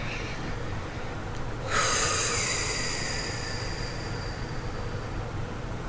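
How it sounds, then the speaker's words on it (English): A single deep breath rushes in loudly near the microphone and trails off into a long, soft exhale over a constant low hum, with no talking. "breathe deep 7 times"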